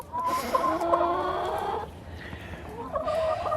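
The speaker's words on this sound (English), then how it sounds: "In this coop is all laying hens, and we actually have one rooster." Laying hens, among them buff Orpingtons, with one rooster in a homestead backyard coop cluck and call close by in two short bursts, with a brief lull between them.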